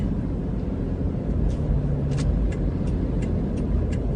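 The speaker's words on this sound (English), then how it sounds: "This car is trying to get in." A car tries to squeeze in next to a campaign bus in a Texas highway convoy, its steady engine and road rumble mixing with heavy traffic noise, while faint sharp clicks and knocks come through now and then.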